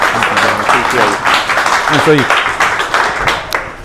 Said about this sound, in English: A big round of applause for Trenton for coming out here.